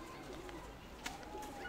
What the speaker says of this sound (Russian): Вот голуби.